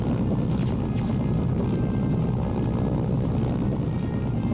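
A helicopter in the video game Mercenaries: Playground of Destruction roars close and loud, its rotor churning in a constant dense drone with no talk over it.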